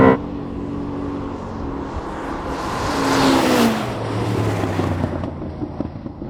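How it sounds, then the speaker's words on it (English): Ferrari SF90 XX accelerating hard from a launch with wheel spin, a loud engine roar building and sweeping upward before settling into a steady high whir. "Did you launch that? I did launch that, and it had a huge amount of wheel spin."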